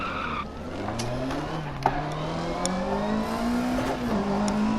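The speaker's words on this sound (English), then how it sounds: "Hit that tree pretty hard." Opel Manta 400 rally car sliding on grass in DiRT Rally, engine droning and rising in pitch with tyre scrubbing, a sharp thud of hitting a tree partway through, then the engine pulling on.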